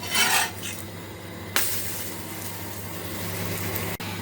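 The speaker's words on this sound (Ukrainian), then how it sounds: "Зараз всі млинці посмажу." A pan of savoury pancakes sizzles steadily up close while a utensil clinks and scrapes briefly against it at the start.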